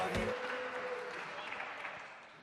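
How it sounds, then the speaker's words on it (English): Conference audience applauding winners after a keynote game, a burst of clapping that quickly thins and fades out over a couple of seconds, with a short voice at the very start. "Okay, give the winners a round of applause."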